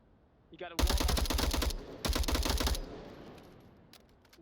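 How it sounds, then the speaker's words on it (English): Gunfire in the VR shooter Onward comes as two rapid automatic bursts of close, loud shots separated by a short gap, then fades into quieter game ambience. "Shots coming out from the likes of Chewie."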